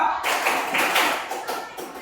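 Classroom clapping counting game with a group of students, sharp claps landing in a steady rhythm of about four or five beats over a couple of seconds, fairly close and clear.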